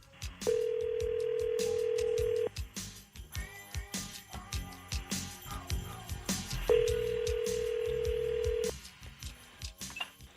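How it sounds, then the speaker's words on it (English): A telephone line gives two long steady ringback tones, each about two seconds, with a string of short dialing and handling clicks between them, clear and close over faint studio background. "Mute the phone, and let's dial him up."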